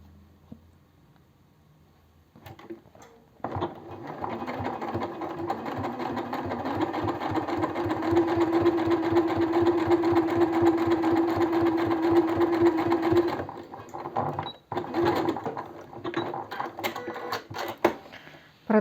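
A sewing machine stitches fabric scraps into a zippered cosmetic organizer bag, running in a loud, steady whir for about ten seconds, then continuing in shorter bursts with brief pauses.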